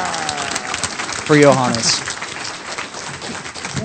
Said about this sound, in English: please, everybody, a huge, gigantic Hope X round of applause